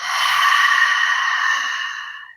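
A single long, deep breath is pushed out through the mouth during a pranayama meditation session, sounding as a close, breathy sigh that holds steady and then fades out over about two seconds.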